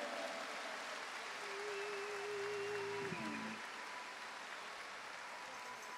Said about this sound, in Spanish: nuestro cardenal Nicolás López Rodríguez, un aplauso para él.